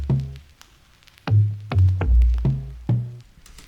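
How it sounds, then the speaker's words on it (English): A distorted kick sample with a conga-like tone plays as a short pattern of punchy, pitched hits, two quick strikes, then a run of five or six, with booming low tails and nothing else around it. "It's actually a distorted kick, that's what it's named, but it sounds like a conga sound."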